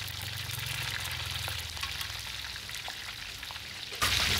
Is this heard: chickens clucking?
no